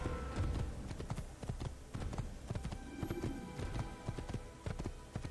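Hooves of a dark horse in Assassin's Creed clip-clop in a steady, brisk rhythm throughout, close and clear over low ambient game sound.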